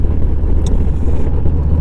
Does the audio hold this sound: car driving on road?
yes